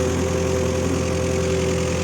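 A small, cold engine idles steadily with a low, even rumble and a constant hum, no revving, close by and unbroken throughout.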